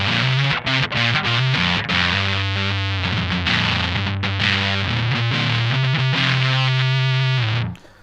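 An electric guitar played on the neck pickup through a Deaf Watts Cutting Teeth Too fuzz pedal, a thick, saturated sustained chord with heavy low end ringing loud and alone for about eight seconds before cutting off.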